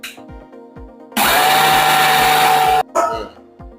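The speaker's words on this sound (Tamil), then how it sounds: "மிக்சியில நல்லா போட்டு பவுடர் பண்ணிக்கலாம்." A mixer grinder powders sugar in one loud, steady whirring burst of under two seconds, then a brief restart, with quiet clinks and handling before and after.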